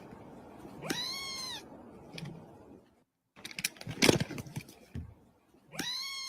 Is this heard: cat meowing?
yes